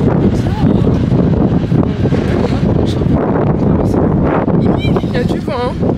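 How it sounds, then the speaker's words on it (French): Wind blows outdoors with loud, steady microphone buffeting across the whole clip, a dense roar under faint background voices. "Il y a du vent, hein."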